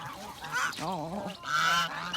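Several young geese honk nearby on a farm in a burst of loud, nasal calls, overlapping one another in quick succession.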